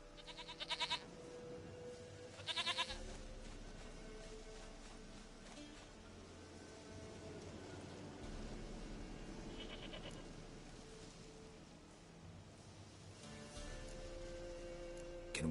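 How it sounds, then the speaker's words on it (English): Goat bleating in The Witcher 3, a few short, sharp bleats in bursts amid quiet in-game ambience, fairly close and clear. "Goat of mine, dearest, sweetest goat."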